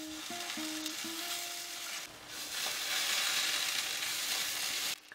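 Cauliflower and spinach mash patties fry in a pan with a continuous soft sizzle, preceded by a few short clinks and a faint tonal hum, then the hiss swells louder as a new batch goes in.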